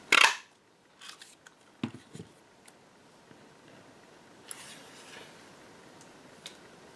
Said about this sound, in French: je vais découper un morceau dans du papier murmure blanc